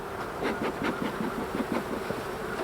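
Honeybees buzzing inside an open hive as frames are handled during autumn preparation for wintering, a dense, close, wavering drone with repeated swells, no talking.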